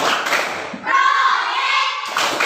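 Schoolchildren perform the P5 clapping chant together, a burst of hand claps followed by a sustained unison chant of young voices, then more clapping, close and loud.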